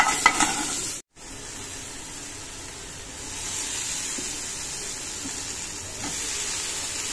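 Chopped onions sizzling in a pan while being stirred, a close steady hiss and frying crackle with a brief break near the start, no talk.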